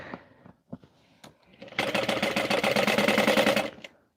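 A sewing machine stitching a bow runs in a fast, even rattle for about two seconds, close and clear, after a few scattered clicks and taps.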